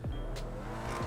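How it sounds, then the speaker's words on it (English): A very fast car in GTA Online rasps and roars through its exhaust with quick pitch swoops and a short squeal of tires, loud and close over about a second. "listen to the exhaust."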